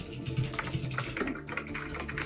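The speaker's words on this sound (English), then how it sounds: "it's him typing!" Quick, light keystrokes patter on a computer keyboard in an irregular burst, fairly soft and close, with no talking over it.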